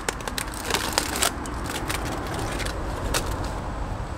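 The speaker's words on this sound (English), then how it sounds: "I'm going to unwrap this to show you what I mean" A coffee tree branch has its air layer unwrapped by hand after about four months. The sound is steady crinkling and rustling of wrapping material with a few sharp crackles, close to the microphone, with no talking.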